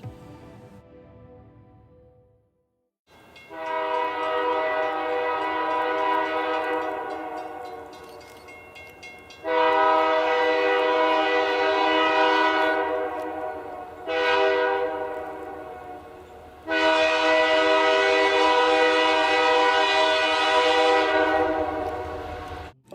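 SD40-2 diesel locomotive #3403 passes with a loud, rich multi-tone horn, sounded in several long blasts separated by short gaps, over a low rumble of the engine and rolling train.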